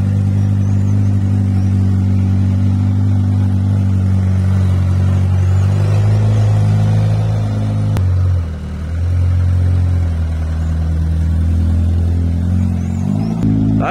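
A car on a rural milk collection run drives with a loud, close engine drone from inside the cabin, dipping briefly as it shifts gear about halfway through before pulling steadily again.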